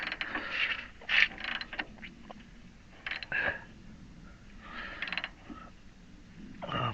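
Old-school lever wrench and socket working on a hydraulic ram during a rebuild, faint intermittent ratcheting clicks and metallic creaks with quiet gaps, close but low.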